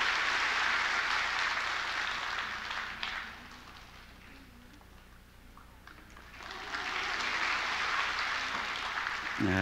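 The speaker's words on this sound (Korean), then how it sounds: "우리 박수로 이 아기를 축복합니다" Church congregation applauding to bless a baby during a Sunday worship service, a broad wash of clapping that dips quieter in the middle before swelling back up, heard without speech.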